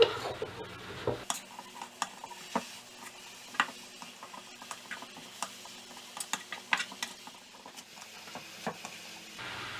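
Vegetable filling for vegetarian spring rolls being tossed and mixed by hand or spoon in a bowl, with soft irregular clicks, scrapes and light patters at close range, no talking.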